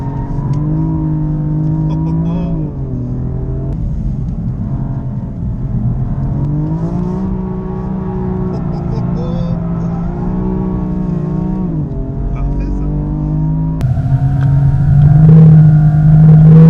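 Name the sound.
BMW GT4 race car drifting around the track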